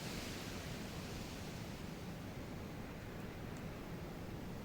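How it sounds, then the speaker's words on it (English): Strong, steady wind buffets a wild camping spot on a blustery summer evening, a constant broadband roar close to the microphone with no pauses or voices. "It's blustery."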